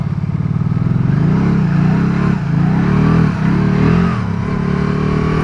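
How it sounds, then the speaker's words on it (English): Can-Am Spyder three-wheeler engine revving hard with rising and falling pitch as the rider tries to drift, loud and close throughout. "I can't even go like half throttle. See if we can get a little drifting going."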